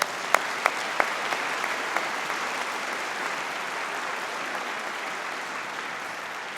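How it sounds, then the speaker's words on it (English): A convocation audience applauds the university big band, a broad steady wash of clapping heard from a distance with a few sharper close claps near the start. "Let's give up a big round of applause."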